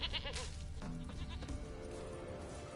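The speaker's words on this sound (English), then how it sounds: "Here, goat." A goat bleats loudly and close by in a wavering, repeated cry, over a busy background of other sounds and low rumble.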